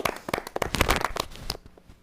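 A small audience claps briefly for an award presenter at a comedy-style show: a scattered burst of claps over about a second and a half that fades out quickly.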